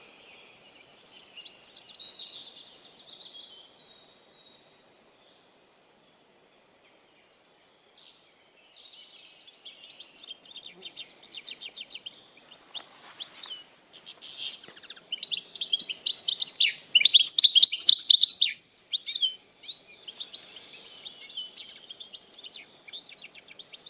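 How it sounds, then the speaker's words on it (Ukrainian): High, bright bird chirps and trills come in bursts with a short silent gap, sounding thin and electronic, played through a small Xiaomi Pocket Sound 5W portable speaker. "колонку можна використовувати на природі як імітація голосів птахів, щоб їх приманювати"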